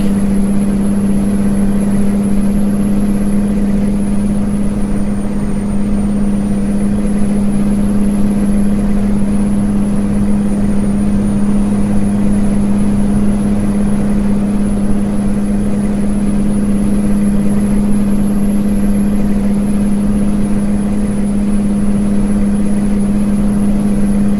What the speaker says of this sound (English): Man, my engine sounds sick.